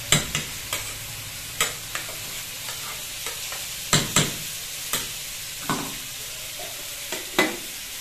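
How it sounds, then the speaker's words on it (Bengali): Eggplant slices frying in a pan, with a low continuous sizzle broken by a dozen or so sharp scraping strokes of a spatula at uneven intervals, close and clear with no talk. "আর আমাদের এখানটা ভাজাটা হচ্ছে।"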